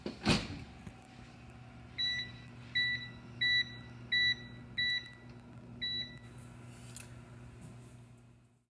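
A kitchen timer set while baking pizza beeps in six short, evenly spaced double-tone bursts, clear and close, with a low steady hum of kitchen background beneath.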